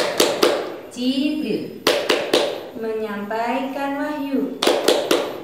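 Rhythmic hand claps from a children's clapping game, bursts of crisp close claps opening and closing the passage, with a voice speaking between them.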